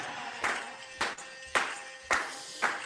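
Audience clapping along to a beat during a live call-in session: five sharp, evenly spaced claps about half a second apart, fairly close and clear with no talking over them.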